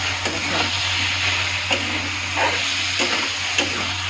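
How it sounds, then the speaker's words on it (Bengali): Spices frying in a hot pan, a loud continuous close sizzle broken every second or so by the scrape of a utensil stirring through the oil. "এখানে আমার মশলাটা ভাজা হয়ে যাচ্ছে"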